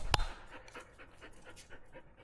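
A shop dog pants in quick, rhythmic breaths close by but at low volume, after a brief louder thump at the start; no one speaks.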